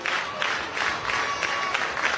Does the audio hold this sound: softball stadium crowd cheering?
yes